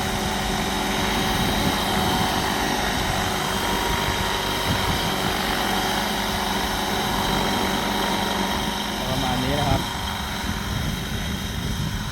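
A large AS-350 model helicopter, flying bouncy and unstable, holds a loud, constant rotor and engine drone throughout, close by and unbroken.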